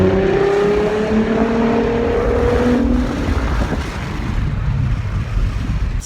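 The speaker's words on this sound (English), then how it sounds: "I'm gonna rev it up for you guys and see how it goes." A Ford Mustang V6 with a Magnaflow Race Series exhaust revs and roars as it passes, its pitch sliding as it goes by, with wind buffeting the microphone.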